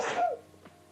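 A single sharp sneeze bursts out close and loud, then trails off into quiet room tone.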